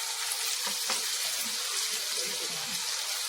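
Spices and tomatoes fry gently in a pan over low heat, giving a soft, even sizzling hiss close by, with faint bubbling and a couple of light utensil taps, and no voices.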